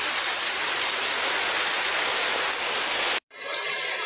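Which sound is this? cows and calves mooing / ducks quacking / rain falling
rain falling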